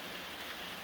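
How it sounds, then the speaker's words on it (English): Steady rain drums on the roof of a small framed barn-property cabin under construction, a dense, even hiss with no gaps or voices. "enjoy the rain hitting the roof"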